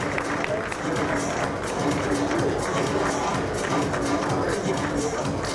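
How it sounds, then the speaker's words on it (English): A crowd at a pageant sportswear segment claps and cheers steadily and loudly, a continuous wash of applause with a faint voice underneath. "A round of applause, if you will."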